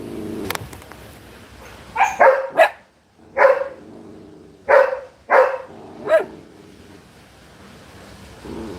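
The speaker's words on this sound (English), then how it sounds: "My dogs are going off." Dogs bark outdoors in the Philippines, a run of about seven sharp, fairly close barks in uneven clusters with short quiet gaps between them, no talking over them.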